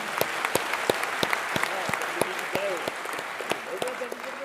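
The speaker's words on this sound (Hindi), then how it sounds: "ताली बजाओ जोर से।" Loud audience applause fills a hall after a call to clap for a guest, with steady dense hand claps and sharp individual claps standing out, over a faint background voice.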